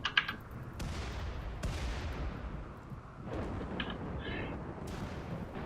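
Mortar rounds firing in the colony game RimWorld, a few sharp booms spread across the stretch with a rumbling tail of artillery-like noise at low volume, a voice faintly present.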